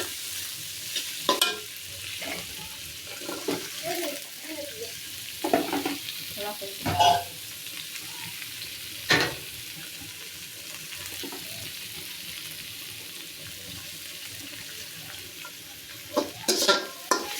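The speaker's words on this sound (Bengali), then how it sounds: "এটা ভাজা ভাজা করবো রান্না করে" Pigeon meat fries with plenty of chopped onion under a soft, steady sizzle, broken by repeated scrapes and knocks of a spatula stirring in the pan.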